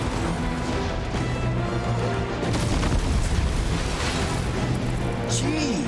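Gunfire and booming impacts in the Guardians of the Galaxy action game on PS5, a constant barrage of shots and crashes in a chaotic fight, with characters talking over the din.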